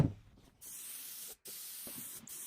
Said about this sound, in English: I'm spraying a layer of polyurethane over the top of this.